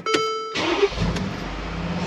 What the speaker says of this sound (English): Always gotta do a cold start in this car.